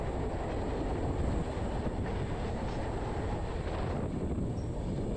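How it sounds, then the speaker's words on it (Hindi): The Jharkhand Swarna Jayanti Express 12818 passes close by near a tunnel entrance, giving a loud continuous rumble and rattle of rail cars with wind buffeting the microphone throughout. "ये देखिए ये ट्रेन यहाँ से निकली"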